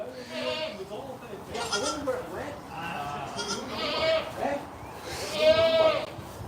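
Baby goats bleat several times at close range, the cries rising above someone talking steadily throughout.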